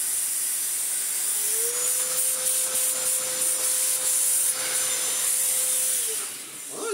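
A Vax Blade 2 Pro 24v cordless vacuum running after refurbishment, a high airy hiss with a faint steady whine that starts, holds for several seconds and cuts off near the end.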